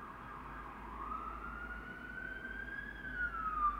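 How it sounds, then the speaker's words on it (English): A siren wails steadily, its pitch slowly rising as it passes, over a low traffic rumble. "There's sirens going by."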